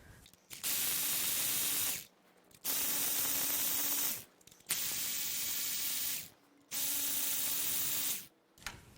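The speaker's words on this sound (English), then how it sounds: "We're going to just slowly turn this over with my power ratchet." A power ratchet slowly turns over a BMW N20 engine during a teardown, with four steady whirring runs of about one and a half seconds each, broken by short pauses, close and fairly loud.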